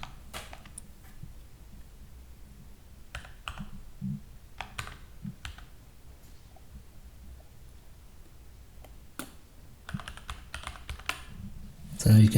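Someone types a password on a computer keyboard while setting up a CentOS VPS. Light, irregular key clicks come in scattered bursts with short pauses, close and fairly quiet, and a louder clatter comes at the end.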